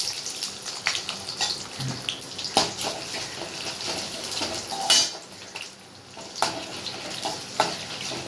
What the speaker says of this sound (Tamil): கடுகு பொறிஞ்சது கடலைப்பருப்பு போட்டுக்கலாம் கடலைப்பருப்பு போட்டு வேர்க்கடலை போட்டுக்கலாம்